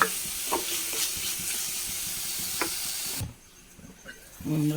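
Tomatoes sautéing with rock salt in a pan on a home stove, a steady hiss and sizzle with scattered stirring clinks that drops off abruptly near the end before a clatter.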